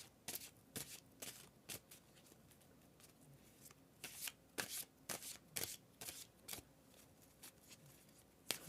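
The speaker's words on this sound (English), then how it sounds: "Well, let's pull a few cards, Jorge, and see what comes up." Tarot cards being shuffled in a quiet room: repeated crisp riffling bursts and soft slides, irregular in rhythm and close by, with no talk.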